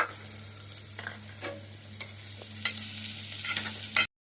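Onions and coconut paste sizzling in a pan for veg kurma while a spoon stirs and scrapes, a close, steady frying hiss broken by several sharp scraping strokes, with no talking.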